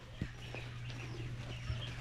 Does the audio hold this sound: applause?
no